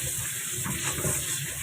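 Beans and other vegetables rinsed under a running tap in a home kitchen, a steady close wash of water lasting the whole moment with no voices.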